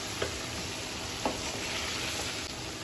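Bitter gourd and meat cooking with salt in a pan, a steady close sizzle with a couple of brief spoon scrapes and clinks as it is stirred, no talking.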